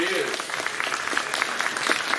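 A crowd at an outdoor Bigfoot festival in the Kelso–Longview area claps in a dense, even burst of applause, with a voice speaking faintly at the start.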